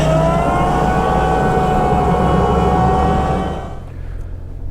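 A farm tractor drives close by with a loud, steady engine drone that holds for several seconds, then drops sharply as it fades away near the end.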